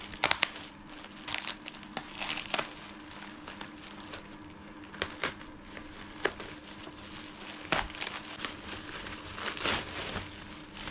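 Plastic packaging crinkles and rustles in irregular bursts at close range as a large TVS Apache windshield visor is unwrapped, with quieter handling noises between the crackles.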